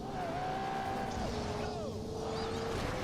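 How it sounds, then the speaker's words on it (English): A racing car in The Grand Tour Game video game drives fast, its engine whining steadily and shifting pitch through gear changes, with a constant roar of road and tyre noise throughout. "It's a really quick car."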